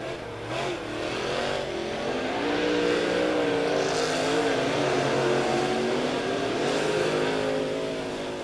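Late model race cars circle the Lebanon Midway Speedway oval, their engines swelling to a sustained loud roar as they pass, with rising and falling pitch and a few sharper bursts.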